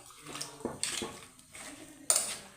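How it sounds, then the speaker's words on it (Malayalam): A spoon scrapes and clinks against a pot as sambar is stirred with salt and turmeric, in a few soft metallic knocks and scrapes, close but fairly quiet. "നമുക്കൊന്ന് ഇളക്കി കൊടുക്കാം ഇതൊന്ന് മിക്സായിട്ട് ഉപ്പൊക്കെ ഒന്ന് പിടിക്കാനും മഞ്ഞൾപ്പൊടി ഒന്ന് പിടിക്കാനും ഇളക്കി കൊടുക്കാം"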